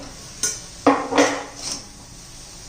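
A lid lifted off a pot of dried-shrimp sukat chutney, giving a few close metallic clanks and a ringing scrape within a couple of seconds, with no voices.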